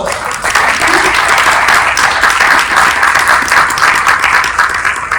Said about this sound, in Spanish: Venga, dense un aplauso, ustedes mismos.